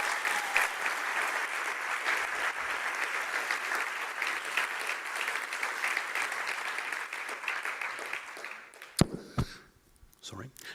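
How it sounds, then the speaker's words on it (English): An audience at an awards ceremony breaks into steady, dense applause that holds for several seconds before tapering into a few scattered claps and then stopping. "They deserve a massive round of applause because this is them."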